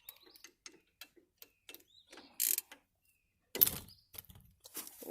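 Ratchet loosening a rear brake caliper bolt on a 2012–2014 Dodge Charger, giving a run of sharp, quick clicks in short bursts with a louder clank partway through, close and fairly quiet.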